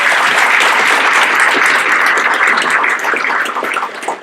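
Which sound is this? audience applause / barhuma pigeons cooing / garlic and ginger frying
audience applause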